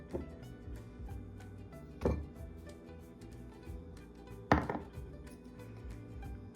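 Batter of curd, oil and powdered sugar is mixed in a bowl for an eggless chocolate cake, giving a continuous soft scraping and stirring noise with a couple of sharp knocks of the utensil against the bowl.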